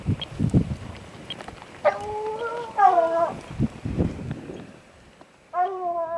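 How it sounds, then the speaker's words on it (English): Trained hounds bay and howl while trailing a cougar on a hunt in Utah, drawn-out harmonic calls rising and falling in several bursts over a noisy outdoor background, with some rustling and movement near the microphone. "The dogs are trained that to open up or to bark when they're smelling a lion."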